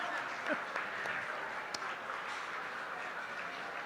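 Audience at a book launch and award ceremony claps steadily and fairly loudly throughout, a dense continuous patter with a brief whoop near the start and scattered cheers underneath.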